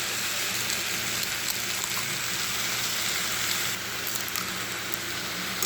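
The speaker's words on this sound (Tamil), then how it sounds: "வாங்க முட்டை உடச்சி ஊற்றிக்கலாம்." Egg poured over drumstick leaves sizzles steadily in a hot pan for an egg podimas, a dense continuous frying hiss close by that eases slightly toward the end.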